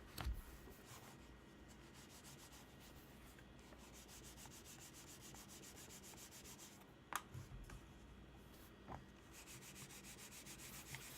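A computer mouse slides steadily across a coarse, sandpaper-like HyperX cloth pad, producing a continuous close scraping rub with a couple of sharper scuffs, with no voices.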